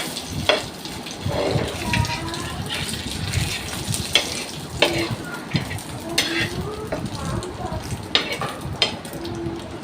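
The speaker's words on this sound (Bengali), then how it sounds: "চুলায় একটা তাওয়া বসিয়েছি এটাতে একটু সামান্য তেল দিয়েছি কারণ আমি ডুবো তেলে ভাজবো না সামান্য তেলে ভাজবো" Mughlai paratha shallow-fries in a little oil on a tawa, a soft steady sizzle with occasional scraping and pressing sounds of a spatula, moderately quiet and close.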